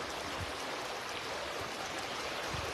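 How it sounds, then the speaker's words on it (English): A river stream flows in a steady, soft rushing wash of water with faint trickling detail, continuous and even throughout with no voices. "Welcome to the river."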